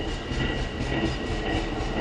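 A Long Island Rail Road freight train rumbles past steadily, a continuous heavy roll of wheels and railcars with a faint high squeal riding on top, heard at moderate distance.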